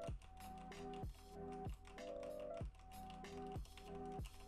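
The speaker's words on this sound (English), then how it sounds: "I can test that just by clicking on my keyboard" Keys clatter on a computer keyboard in quick, irregular bursts, close and fairly crisp, with a steady electronic tone running underneath.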